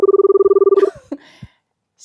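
A mobile phone call rings with a rapid, steady pulsing electronic tone for just under a second, then cuts off, followed by a few faint soft knocks and rustles.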